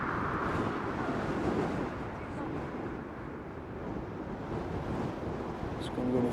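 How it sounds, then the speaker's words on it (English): Jet blast from a departing airliner at Newcastle Airport roars as a steady, broad rushing wash, loud and constant with slight swells, like strong wind buffeting the microphone. "And there's the jet blast."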